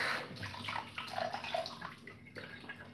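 Dishes being washed under running tap water, with a steady splashing stream, scattered clinks and drips, and faint background noise.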